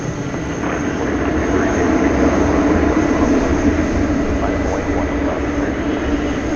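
A jet airliner taxis at DFW Airport at night, its engines producing a loud, steady, broad roar that holds evenly throughout, with no voices.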